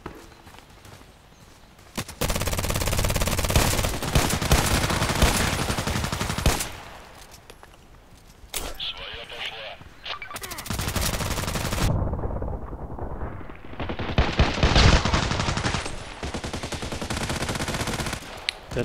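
Gunfire from a TT pistol in the shooter game Contract Wars, rapid loud shots in long dense bursts that break off briefly and resume, with shorter sharp volleys near the end.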